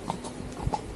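A horse walking down a hill on a country path: a few soft, irregular hoof clops at close range, fairly quiet, with no talking over them.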